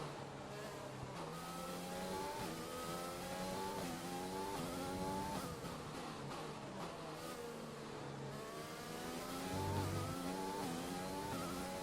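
Formula 1 car engines in the F1 2020 video game whine and rise through the gears in repeated revving sweeps, steady and continuous, with another car's engine blending in.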